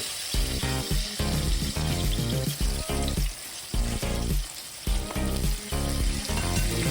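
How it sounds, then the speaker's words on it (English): Flour-coated fish crackles and sizzles in hot oil, a dense, continuous frying sound close by with busy popping throughout. "I'm going to fry the next set"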